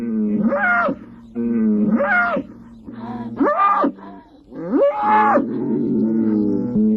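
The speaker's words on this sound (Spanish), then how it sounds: "Mugidos de llamada, de queja o desafío que inundan de inquietud el sereno ambiente de la dehesa." A fighting bull moos repeatedly in open pasture, four or five deep, drawn-out bellows with short pauses between, loud and close over a low steady rumble.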